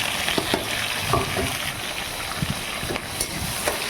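Onions frying in hot oil after a bay leaf for a simple biryani, a steady close sizzle broken by scattered pops and the scrape of stirring.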